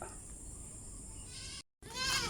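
A goat bleats in a drawn-out, wavering call, fairly close, over a steady background hiss, cut by a brief silence before a second louder bleat.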